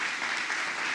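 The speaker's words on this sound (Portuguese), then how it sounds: "Uma salva de palmas ao Senhor pela vida dos pastores." A church congregation claps for its pastors at an anniversary service, a dense, continuous wash of many hands applauding at even loudness throughout.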